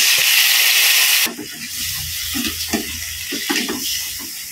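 Tomatoes hit a hot wok and start frying with a steady sizzle after a loud rush of running water cuts off, while scattered scraping and clinks of a utensil stirring them recur throughout.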